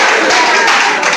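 Audience applause at a Mother's Day celebration: a dense, loud wash of clapping from a crowd that continues without a break, with voices mixed in beneath it.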